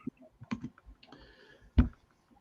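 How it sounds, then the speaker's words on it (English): Someone types slowly with one finger on a computer keyboard in a quiet room, producing a handful of sparse, soft key clicks and one sharper, louder tap near the end. "Nobody wants to watch me doing one finger typing."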